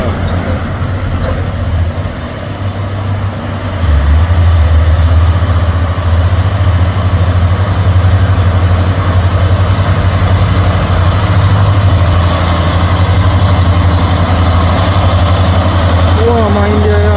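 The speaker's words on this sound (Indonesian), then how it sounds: "Truk Trinton Hino" A Hino Trinton 6x2 truck's diesel engine idles with a deep, steady rumble that grows louder after a few seconds, while someone talks over it.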